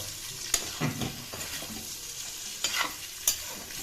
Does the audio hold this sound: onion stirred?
yes